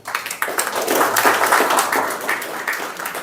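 A Muslim charity gathering in Durban, South Africa, where a seated audience gives a steady round of applause for a teacher, with dense, close clapping that swells and then tapers over a few seconds.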